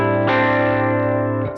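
A Stratocaster-style electric guitar plays through a Line 6 HX Stomp psychedelic surf preset: one loud, sustained chord swells in with chorus and echo, rings steadily, then is cut off abruptly near the end.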